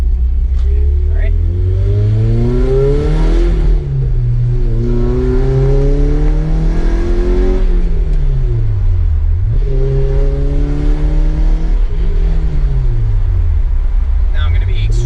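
Manual car engine loud and close, revving up and dropping repeatedly as gears change, each rise followed by a sudden fall in pitch, with someone talking over it.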